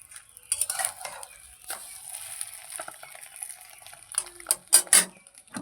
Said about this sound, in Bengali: এই যে ডিম ভাজা হচ্ছে, ডিম ভাজি।